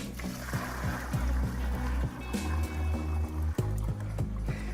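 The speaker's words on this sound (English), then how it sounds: "we'll pour it into our freshwater tank" Fresh water is poured into the freshwater tank of a Kärcher Puzzi 10/1 spray extraction cleaner, a steady rhythmic glugging and gurgling of liquid running throughout, close and moderately loud.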